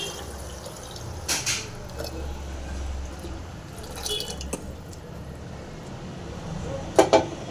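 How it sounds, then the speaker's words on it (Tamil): Water poured into a cooking pot of lentils, with soft splashes and drips, a few sharper clinks near the end, no talking. "பருப்பு ஊற்றி பருப்பு வேக தண்ணி ஊற்றிடலாம்"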